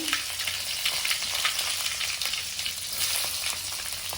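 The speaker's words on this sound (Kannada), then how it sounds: "ಇದಕ್ಕೆ ಇವಾಗ ಸಾಸಿವೆ ಹಾಕೊಳ್ತಾ ಇದ್ದೇವೆ. ಇದಕ್ಕೆ ಸ್ವಲ್ಪ ಕರಿಬೇವು ಹಾಕಿದ್ದೇವೆ" Mustard seeds and curry leaves sizzle and crackle in hot oil, the start of a coastal-style okra palya. The frying is steady, close and loud, with sharp pops from the seeds scattered throughout and no talking.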